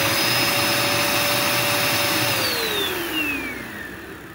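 A Dirt Devil Endura Max UD70175 vacuum cleaner with a completely clogged hose runs loudly and steadily, its motor whine then dropping in pitch and fading slightly toward the end, with no talking.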